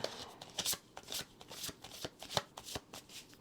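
A tarot deck shuffled up close, its brisk papery riffles and slaps repeating in an uneven rhythm, soft in level and heard alone without any voice.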